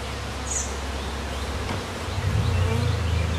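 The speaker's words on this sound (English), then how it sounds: "Bees don't circle unless there's a queen in the air or they're orientating out of a box." Honeybees circling in the air around a hive make a close, steady buzzing drone, with individual bees swelling louder as they pass near.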